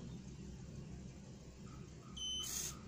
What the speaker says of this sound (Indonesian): maka indikator akan berbunyi kalau sudah selesai cuci tangan